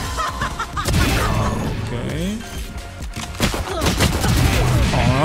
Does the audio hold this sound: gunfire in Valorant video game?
yes